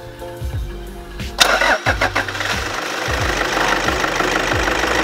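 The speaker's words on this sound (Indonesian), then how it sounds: "Ini kita coba nyalakan mobilnya, dia akan bertambah atau tidak." A used car's engine is cranked with a few quick starter turns, catches loudly and settles into a steady idle close by, with no talking.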